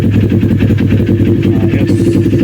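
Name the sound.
motorcycle engine cold start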